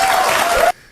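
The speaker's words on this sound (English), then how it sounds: "And then they cheer over nothing." A studio audience at a Bill Maher show breaks into loud cheering and applause, a dense roar of crowd noise that cuts off abruptly.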